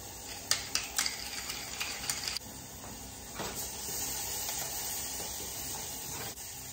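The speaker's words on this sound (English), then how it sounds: "Our onions are starting to saute nicely." Onions saute in a pan with a soft, steady hiss, close and fairly quiet, while a utensil scrapes and taps through the first couple of seconds and there is no talking.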